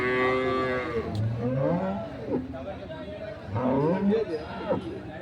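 Cattle moo repeatedly at a busy cow market in Dinajpur, with several long, drawn-out calls from close by over a background of crowd chatter and voices.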